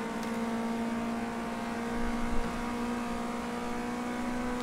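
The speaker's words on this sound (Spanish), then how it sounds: "Están detrás, ya escucho los motores" Race car engines from the video game Project Cars 2, a steady droning engine hum at moderate loudness that holds throughout, with a slight surge partway through.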